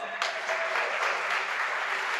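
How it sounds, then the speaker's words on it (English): A crowd cheers and applauds for a Danish esports racing driver being introduced at the 2022 FIA Motorsport Games, a steady wash of clapping and cheering that swells after a brief start and holds for about two seconds. "Very big cheer from over there for him."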